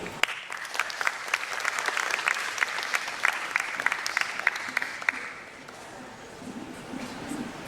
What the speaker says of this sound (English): We have a huge round of applause for Sharda Agarwal, please.